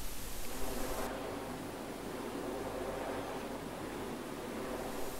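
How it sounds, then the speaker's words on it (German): Wind turbine rotors turning over an industrial park in former Soonwald forest give a steady, broad whooshing rush with a low, constant hum beneath it, continuous and unbroken, with no voices. "Außer dem Rauschen der Propeller ist stetig ein tiefer, schwingender Ton an der Grenze der Hörschwelle allgegenwärtig."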